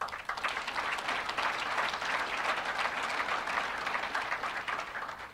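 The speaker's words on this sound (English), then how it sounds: "I take it that applause was for North Tonawanda, not the bill" An audience at a governor's budget address in Buffalo bursts into loud, dense applause that rises quickly and holds strong for several seconds before beginning to fade.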